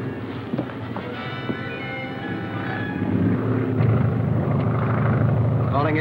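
A scout plane's engine drones overhead as it circles, a steady rumble running under the talk of people in a 1943 adventure serial.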